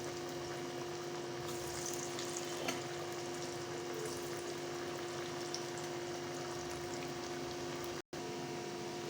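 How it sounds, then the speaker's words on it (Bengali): Koftas (meatballs) deep-frying submerged in hot oil give a steady, even bubbling hiss that runs unbroken and moderately quiet throughout, with a brief cut near the end and no voices. "চুলায় তেল গরম করা আছে, এখন আমরা ভেজে নেব।"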